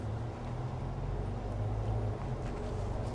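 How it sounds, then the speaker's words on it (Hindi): A low, steady engine drone and road rumble carry throughout, like riding inside a moving Mahindra Thar with no talking. "अब गाड़ी चलाते हैं"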